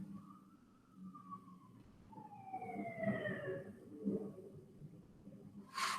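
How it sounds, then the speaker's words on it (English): Emergency vehicle sirens in a city street, faint and distant wails sweeping up and down for several seconds beneath low traffic rumble, with a passing fire truck adding heavy engine noise. "Oh, look, more sirens."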